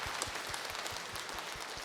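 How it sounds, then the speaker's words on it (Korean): A church congregation claps together, a dense, steady wash of applause heard from some distance at a low level throughout, with no voices over it. "박수를 치려면은 화끈하게 쳐버려요"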